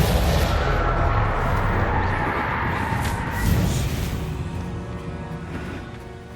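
Bombarda spell blast in the Hogwarts Legacy video game: a loud, booming burst that swells around the middle and then fades out in a long rumbling tail, with no voices.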